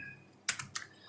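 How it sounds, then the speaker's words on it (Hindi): A computer keyboard shortcut, Ctrl and minus, pressed while working in Excel: three quick, crisp key clicks close to the mic, then quiet. "कंट्रोल कीबोर्ड से कंट्रोल माइनस कर दें"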